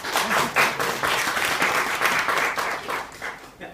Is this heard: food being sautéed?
no